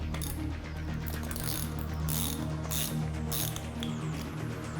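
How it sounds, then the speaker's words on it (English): A 10mm socket wrench ratchets back and forth removing the five nuts on the back of a golf cart or rover front wheel hub, its dense clicking pawl repeating in bursts close to the mic over a low hum. "take your 10mm socket and remove the 5 nuts on the back side of the wheel hub"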